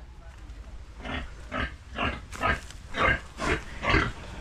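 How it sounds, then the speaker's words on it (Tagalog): White pig grunting in a rhythmic series of about seven loud, close snorting grunts near its pen on a farm, with low background noise between them. "Nakawala yung puting baboy."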